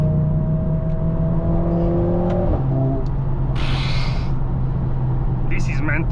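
Audi RS3 engine under hard acceleration, the rising drone breaking off at a quick upshift into fourth gear before climbing again, loud and continuous alongside a person talking.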